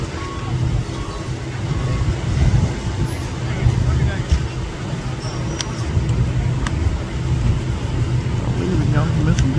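Stock cars race around a track in a dense, continuous roar of engines that fills the whole stretch, with no clear pauses.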